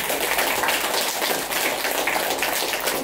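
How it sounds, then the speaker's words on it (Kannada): Crowd applause fills a women's meditation gathering in Bellary, a dense, steady wash of many hands clapping loudly throughout with no break. "ಜೋರಾಗಿ ಚಪ್ಪಾಳೆ"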